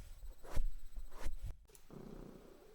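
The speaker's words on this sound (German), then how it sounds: "wenn du so laut schnurrst, wird es schwierig zum Aufnehmen" A cat purring close by, a steady low rumble interrupted by a few soft bumps and a brief pause before the purr resumes.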